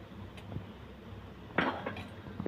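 A cup of semolina (rava) goes into a pan on a stovetop, giving soft scraping and a brief clinking rattle of metal cookware, faint and close in an otherwise quiet kitchen.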